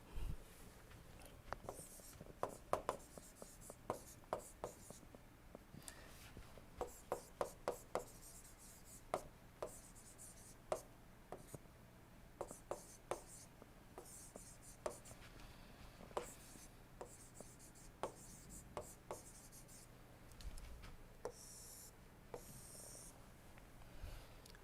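A pen or marker scratches across a board or paper in quick irregular strokes, sketching a simple float-type carburettor diagram; close and quiet, with a faint low hum underneath.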